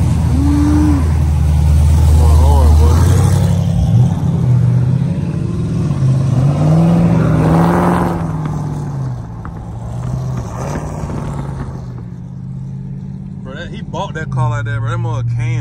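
A supercharged Cadillac CTS-V passing by on the street, a deep rising and falling engine roar that swells and fades, with someone talking over it throughout.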